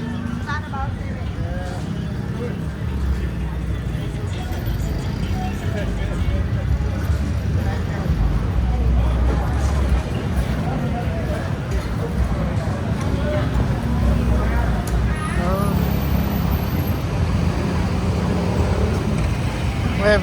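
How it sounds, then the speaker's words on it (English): Steady town street traffic with passing cars and motor vehicles, a continuous loud roar with murmuring voices mixed into the background throughout. "Every day the traffic's like this in town."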